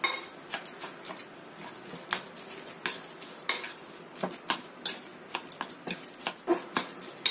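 Spoon clinks and scrapes against a bowl while a chicken, garlic and spring onion dumpling filling is stirred, in an irregular series of sharp taps and softer scraping strokes, close up with no voices.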